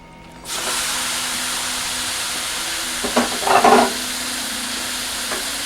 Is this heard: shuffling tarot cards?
no